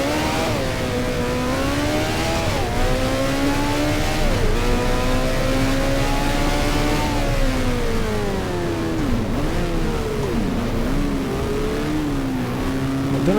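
A 1978 wing car racing at Monte Carlo in F1 Challenge, its engine droning steadily and loudly throughout, pitch rising and falling through repeated upshifts and downshifts on the street circuit.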